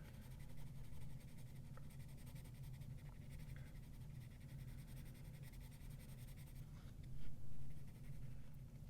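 Colored pencil shading on paper while coloring a mermaid's skin tone, a steady soft scratchy scraping that runs continuously throughout, close and fairly quiet, with a slightly louder burst of strokes near the end.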